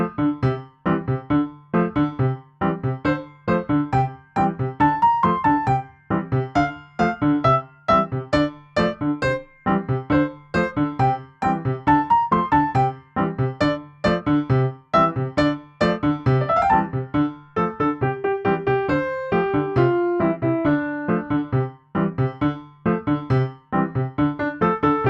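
Piano rendition of a song, played steadily throughout with a repeating low accompaniment under melodic chords and single notes, loud, close and continuous with no talking.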